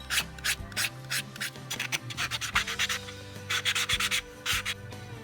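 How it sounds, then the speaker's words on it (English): A wooden napkin holder is hand-sanded with sandpaper to blend in its knuckles, producing repeated rhythmic rasping strokes in quick bursts, close and fairly loud, with no talking. "I want to blend in those knuckles a little bit with the sandpaper"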